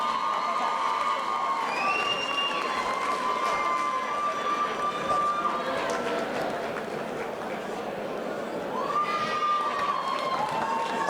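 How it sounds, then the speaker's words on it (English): A crowd at a FIGHT UK MMA event cheers and applauds after a bout, a dense continuous roar of clapping and shouting that fills the hall, with an announcer's amplified voice ringing over it. "That's a round of applause for both warriors."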